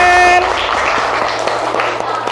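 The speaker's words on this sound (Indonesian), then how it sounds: "Oke, tepuk tangan" Applause from a classroom of students, a dense spread of overlapping claps sustained through the whole stretch, with a brief tone and a voice at the very start.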